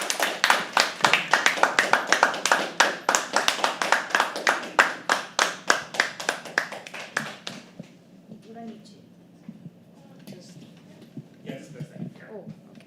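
A live poetry open mic crowd at The Habitat claps sharply and steadily for several seconds, the claps thinning out and fading as a few voices murmur and chatter underneath.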